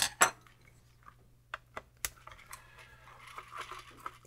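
Scattered small metallic clicks and taps, close by, with a few sharper clinks, as tiny screws are removed from a Commodore 64 keyboard and set down.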